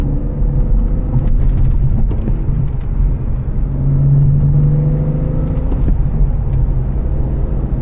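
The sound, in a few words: car engine revving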